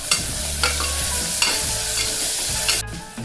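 Onions, coriander and mint leaves sauté in ghee for ghee rice, making a loud continuous sizzle close up, with periodic stirring clatters over the hiss.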